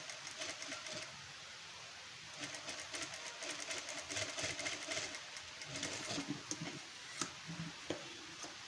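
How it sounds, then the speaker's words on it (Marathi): Sewing machine stitching a prince cut blouse, rattling in quick rhythmic bursts with a ticking needle beat, moderately quiet and close, with a few sharper clicks near the end and no speech. "शिस्तीत असं टीप मारून घ्या"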